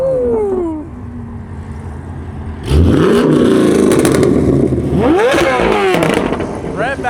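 Several cars rev their engines in a rev battle at a Euro car meet, with a C6 and C8 among them; loud, near bursts of revving rise and fall from about three seconds on, over a steady engine rumble and background chatter.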